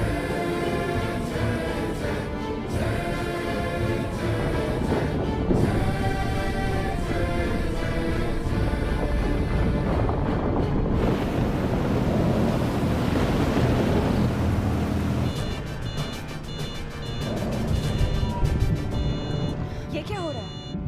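Stormy sea waves crash and churn loudly in a submarine action movie set in Sri Lankan waters, a continuous roaring wash with music layered over it and a brief rise in surging noise midway.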